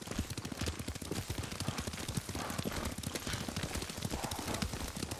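Horse hooves clip-clop at a steady riding gait in the samurai action game Ghost of Tsushima, a dense rhythmic patter of hoofbeats close by and continuous throughout.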